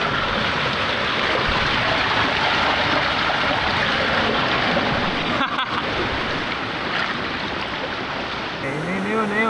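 The strong current of the Dika River rushes as a loud, continuous roar of churning water, with wind buffeting the microphone close by and a short dip near the end.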